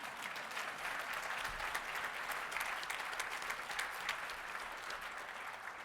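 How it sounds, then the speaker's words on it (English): Sustained applause from an audience at a union legislative conference, a dense, even wash of many hands clapping throughout, fairly distant and steady, with no voices on top. "Hello, you can clap for that."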